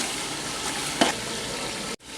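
Masala with tomato sizzles steadily in hot oil for a bhindi curry, a close, continuous frying hiss with a brief stir near the middle before it cuts off abruptly.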